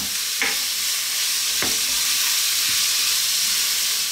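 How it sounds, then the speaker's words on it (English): Shrimp and fusilli pasta sizzle loudly in a frying pan in a cream pasta dish, a steady close hiss with a couple of brief scraping stirs. "throw these around in the pan for about 3 to 4 minutes, stirring fairly often"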